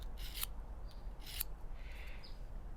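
A Felco pruning shear blade being stroked along the fine white side of a sharpening stone gives two bright, brief rasping scrapes near the mic, followed by softer grinding, set over a low steady hum.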